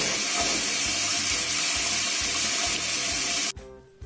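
Shower water runs steadily in a loud, constant hiss that cuts off abruptly near the end, followed by faint drips and room sound.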